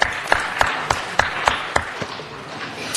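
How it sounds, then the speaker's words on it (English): Sparse applause at a city council meeting for newly confirmed commissioners: about eight separate, evenly spaced claps over a low room murmur, close and moderately loud, fading toward the end. "Please give them a round of applause,"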